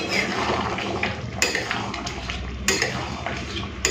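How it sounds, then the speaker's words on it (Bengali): While elephant yam and shrimp curry cooks, a metal lid is lifted off the pot with a few sharp clinks against the rim over a soft simmering bubble, close and moderately loud. "ঢাকাটা খুলে নিচ্ছি"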